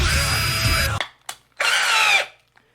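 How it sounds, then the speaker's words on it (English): A power drill whirs loudly for about a second, stops with a click, then spins up again for another half-second burst. "now we're just gonna put this into our drill."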